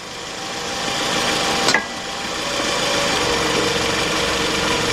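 A Toyota Camry engine runs at a steady, close idle after starting, with a brief high-pitched chirp early on and a constant mechanical hum.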